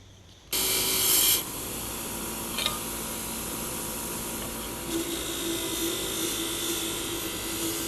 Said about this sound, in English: I think I'll just use my bench grinder